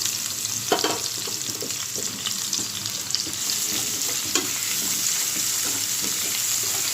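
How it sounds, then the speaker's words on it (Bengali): Onion and green chili fry in hot oil, a constant close sizzle with irregular spatters and stirring scrapes, loud and even throughout, no voices. "পেঁয়াজটা আমি হালকা করে একটু ভেজে নেব।"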